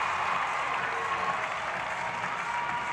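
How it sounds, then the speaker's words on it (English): A crowd at the Breslin Center applauds a gymnastics dismount landing during an MSU Spartans meet against Michigan. The steady, loud wash of clapping and cheering fills the arena throughout. "the crowd here at Breslin is loving it, hearing them erupt with each landing from the Spartans"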